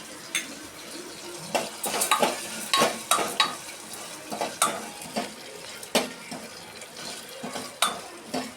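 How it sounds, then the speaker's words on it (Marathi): Chana dal being dry-roasted in a pan until reddish, with repeated scraping stirs of a spoon against the metal over a soft sizzle, close and steady, each stroke a sharp rasp. "आता ही चण्याची डाळ आहे ही टाकून लाल होईपर्यंत भाजून घेऊया"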